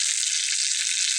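Pea filling with salt and sugar sizzles in a pan for kachori, a loud, steady, close frying hiss with no voices over it.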